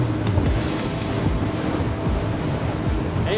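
A ROCK 36 RIB boat cruising at 47 knots on the open sea, a constant loud rush of wind and water spray with hull slaps, with no talking.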